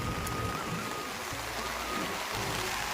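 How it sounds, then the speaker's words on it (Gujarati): Steady rain falling at a lake after a night of heavy downpour, now lighter, a dense continuous hiss of drops on water and ground, close and even throughout with no voices. "અત્યારે થોડોક ધીમો છે પણ આખી રાત વરસાદ સારામાં સારો પડ્યો અને અત્યારે પણ હજી આવે છે"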